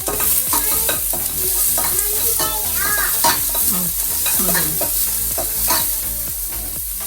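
Chopped onions sauteing in a pan for American-style chili, a loud steady sizzle with frequent close stirring scrapes, no talking.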